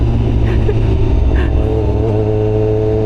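Superbike engine held at high RPM, a loud, steady, raspy roar with a slight rise in pitch toward the end, close to the microphone with no talk.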